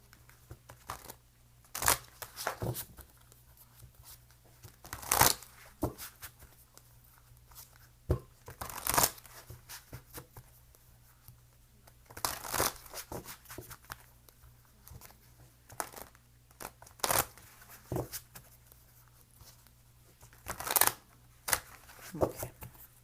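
Tarot cards shuffled in short bursts of crisp riffling and snapping, close and fairly quiet, separated by pauses over a low background hum.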